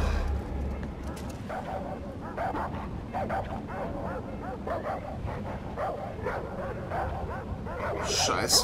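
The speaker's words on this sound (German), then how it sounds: "Scheiß Hunde, ey." Dogs in the video game Far Cry 4 bark and yip repeatedly through a dense, continuous bed of game noise that stays steady for several seconds.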